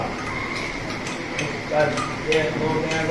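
Iron filings are stirred in a container of water, giving faint, irregular clinks and ticks against a soft background hum.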